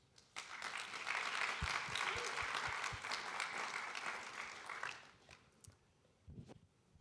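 An audience at a Purdue professional panel event applauds to welcome a guest to the stage, a dense sustained clapping that starts abruptly, holds for about four seconds, then fades out to scattered claps.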